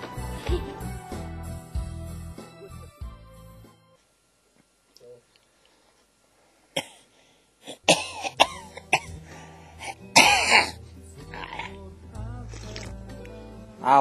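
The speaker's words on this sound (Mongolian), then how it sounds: "Одоо яага ханиалгаад байгаа юм бэ?" A person coughs in a few short, harsh bursts partway through, with people talking around it and quieter gaps in between.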